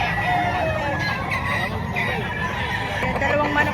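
Chickens cluck and a rooster crows amid a busy, noisy chicken market in the Philippines, with a steady crowd babble and people talking throughout.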